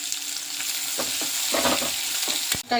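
Sliced onions fry in oil with mustard seeds and cut dried red chillies. They make a steady, close hiss with a few soft scraping stirs.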